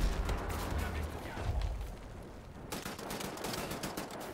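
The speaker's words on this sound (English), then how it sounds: "Assault rifle." Assault rifle gunfire in Wolfenstein: The New Order, rapid bursts of automatic shots with booming low thuds, sustained and loud, with a short lull midway before firing resumes.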